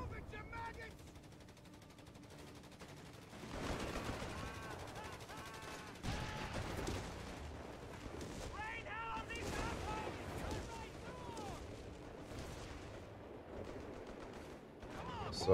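Gunfire and artillery shelling a town in Company of Heroes 3, with bursts of machine-gun fire and heavy booming impacts rising and falling in waves, joined by scattered in-game shouts and a voice talking over the battle.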